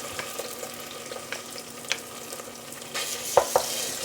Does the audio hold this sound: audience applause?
no